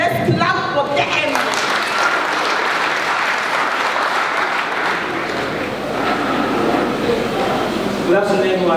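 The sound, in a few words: audience applause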